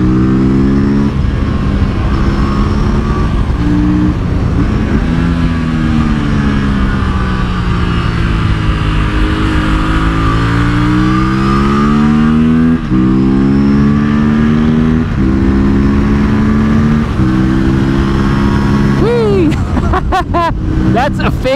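A motorcycle engine roars loud and close while riding on a track, its pitch climbing and dropping through gear changes in one continuous, unbroken drone.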